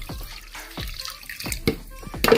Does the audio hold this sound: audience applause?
no